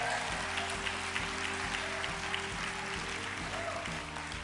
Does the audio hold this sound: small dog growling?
no